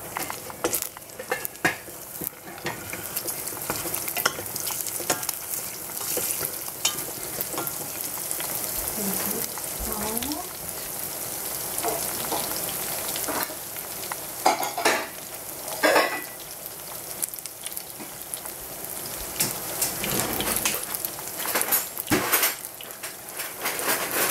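Leftover egg white sizzles steadily in hot oil in a pan, with frequent utensil scrapes and taps against the pan throughout.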